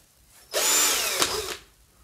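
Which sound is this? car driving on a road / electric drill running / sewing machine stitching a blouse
electric drill running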